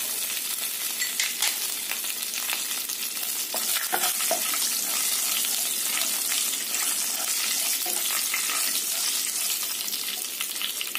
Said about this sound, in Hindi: देखिए कि जीरा चटक रहा है।